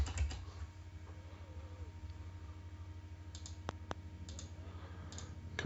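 A computer mouse clicks a few times, sharp isolated ticks at the start and a pair in the middle. They are faint against a low steady hum, with no talking.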